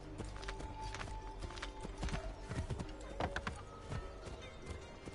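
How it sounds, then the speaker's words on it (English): Horse hooves clip-clop in a steady walking rhythm in the video game Assassin's Creed III, with occasional snorts and game sound effects mixed in. "Horse."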